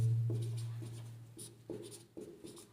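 Chalk or marker taps and scratches on a board in a quiet classroom: a few short strokes and clicks in an uneven rhythm, fairly faint and close, with a brief low hum at the start.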